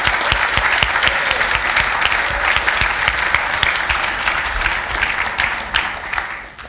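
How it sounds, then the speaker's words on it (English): A room full of attendees at a Linux Australia annual general meeting applauds outgoing council members, giving loud, sustained clapping from many hands that fades toward the end. "So a round of applause for any of the outgoing council members for coming forward."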